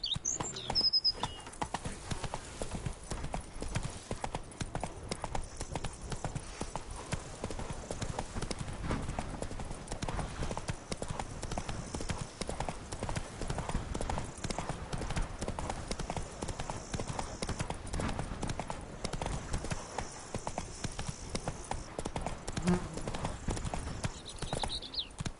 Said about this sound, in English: Even a horse drops if you ride it with a constant gallop.